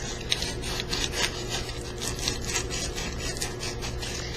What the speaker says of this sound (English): For the curve, you'll do the sanding by hand alone,